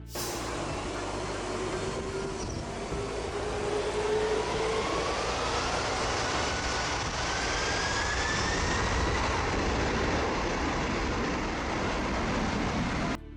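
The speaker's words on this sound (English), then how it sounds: "This is the KLM 747 Extreme jet blowing people into the Maho Beach in the Caribbean island of St. Martin." A KLM Boeing 747's jet blast roars over Maho Beach on St. Martin, a loud, steady, rushing engine blast with a rising whine that fills the whole stretch.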